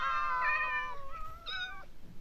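Several drawn-out cat meows in a Minecraft cat village, a video game, sounding one after another and rising and falling in pitch, fairly close with no talk.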